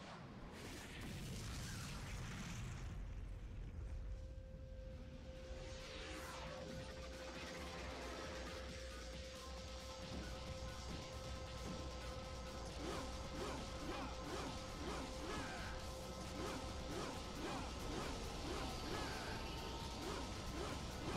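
A tank firing in Devil May Cry 2, with heavy crashes and mechanical clanks over a loud, steady game soundtrack, dense impacts across the stretch and no speech.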